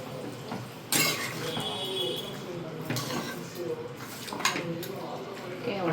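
A lid clanks onto a pan of cooking lemon pepper chicken, with a sharp metallic clatter followed by lighter clinks and rattles of cookware, close up, as a person talks over it.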